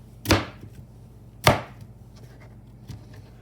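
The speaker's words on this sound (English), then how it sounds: "So I am cutting my onions" A knife cuts through onions being prepared for meatloaf, producing two sharp, distinct thunks on a board about a second apart and a fainter third cut after a pause.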